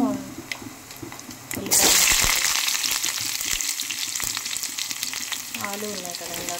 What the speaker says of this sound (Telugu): ఇందులో పోపు దినుసులు వేసుకుందాం.